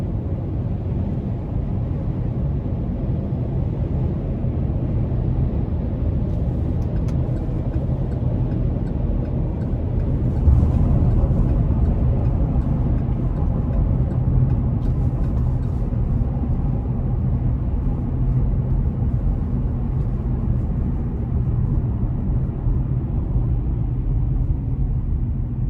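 Steady, low tire and road rumble fills the cabin of a 2021 Chevy Colorado ZR2 Bison with a 3.6 V6, a constant droning hum that holds at an even level throughout.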